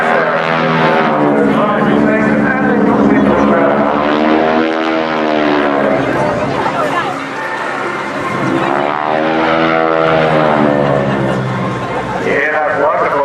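Aerobatic propeller airplane with Hamilton propellers and a 450 horsepower engine pulling through a loop at an airshow, a loud rasping drone that swells and falls in pitch, with a commentator talking over it throughout.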